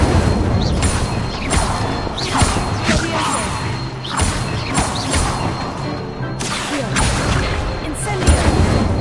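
Incendio fire spell cast by a wand in Hogwarts Legacy, a run of crackling, whooshing bursts and impacts with smashing thuds over roughly nine seconds, loud and steady under busy game ambience.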